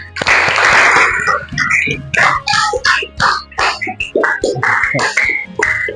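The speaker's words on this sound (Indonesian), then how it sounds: "Ya, tepuk tangan untuk kita semua." Applause breaks out in a classroom during a teacher-training lesson, a dense burst of clapping for about a second before a teacher's voice takes over and talk continues to the end.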